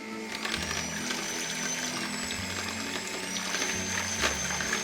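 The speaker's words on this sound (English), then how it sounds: "I like to use an electric beater just to whip them up better" An electric hand beater runs steadily while lightly whisking eggs for a Victoria sponge batter, giving a continuous whirring motor drone with a high whine. It stays close and fairly even throughout, with no talking.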